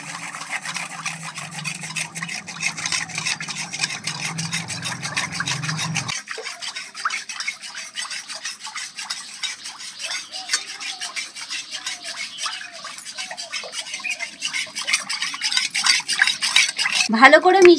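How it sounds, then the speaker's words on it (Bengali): A spoon stirs and scrapes through agar agar powder mixed with liquid in a bowl, giving a steady rasping, rubbing sound that runs continuously for the whole stretch, close and moderately loud. "এবার ভালো করে মিশিয়ে নেব।"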